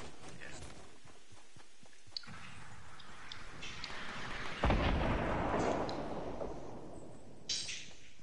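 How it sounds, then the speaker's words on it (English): A battle video game gives off distant gunfire and explosions: scattered shots, then a louder blast that leaves a rolling rumble, with a few sharp clicks. "Shots to the north."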